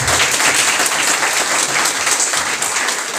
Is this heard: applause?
yes